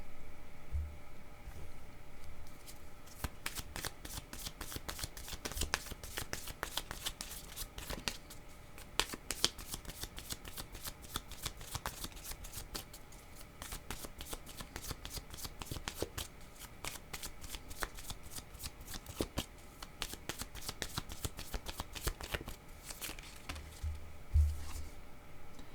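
Tarot cards shuffled for a reading, a long run of rapid crisp riffling flutters and soft slaps, close and continuous with brief pauses, faint low rumbles near the start and end.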